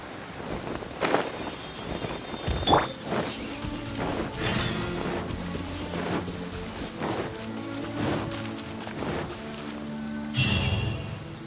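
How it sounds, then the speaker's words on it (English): Rain falling in the Genshin Impact game, a soft steady patter with scattered splashes and a few louder thuds and swells, fairly quiet, with no speech. "Rain."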